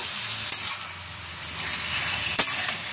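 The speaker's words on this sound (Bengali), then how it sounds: "এটা ভালো করে নাড়াচাড়া করে কষিয়ে নেব।" Taro greens and chickpeas stir-fry in a pan with a steady, moderate sizzle and hiss, broken by two brief knocks of the stirring utensil.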